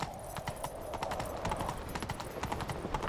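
Rapid clip-clop of a horse galloping in The Witcher 3, steady and fairly close, with rhythmic thuds continuing throughout.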